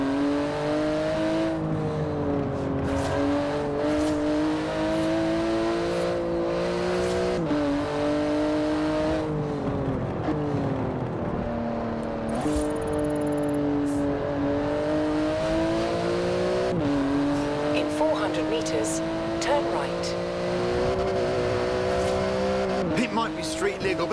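Porsche 911 GT2 engine in Forza Horizon 4, loud and close, revving hard through repeated gear changes with rising and falling pitch and brief tire squeal, under someone talking.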